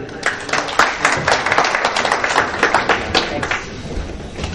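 An audience applauds to welcome a speaker at a gathering in Gujrat honoring an Italian ambassador's visit, with steady dense clapping from many hands, loud and continuous throughout.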